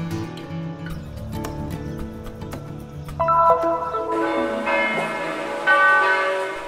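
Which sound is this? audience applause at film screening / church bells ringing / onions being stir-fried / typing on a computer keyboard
church bells ringing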